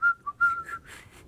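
A person whistles a short tune, several clear notes in quick succession, some sustained and some sliding, close and fairly loud, with no talking.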